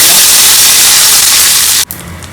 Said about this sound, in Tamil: காஞ்சிடுத்ததுன்னா கடுகு, கொஞ்சமாக உளுத்தம் பருப்பு, கொஞ்சம் சீரகம், ஒரே ஒரு வரமிளகாய்